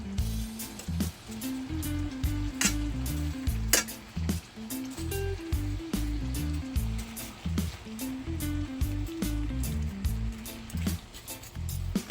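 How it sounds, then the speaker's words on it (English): Onions and carrots fry in a pan for Jamaican escovitch chicken, with a steady close sizzle broken by repeated stirring and utensil scrapes and clinks throughout, with no talking. "I'm gonna add my onions now."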